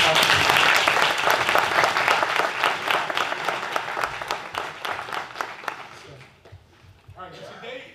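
Sustained applause from an audience at a live-streamed building opening for Score Sports Bat Idea, LLC, dense clapping that tapers off toward the end, with voices talking over it.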